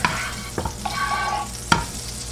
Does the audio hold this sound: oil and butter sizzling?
yes